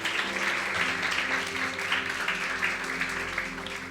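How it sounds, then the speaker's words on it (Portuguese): Congregation applauding during an evening church sermon, steady sustained clapping from a large crowd with no break, filling the room at moderate level. "Você pode aplaudir ao Senhor nessa noite?"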